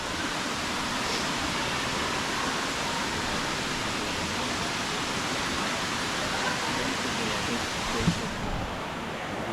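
Waterfall in El Yunque rainforest, Puerto Rico, a dense, loud, unbroken roar of falling water heard up close, steady throughout with a brief thump near the end.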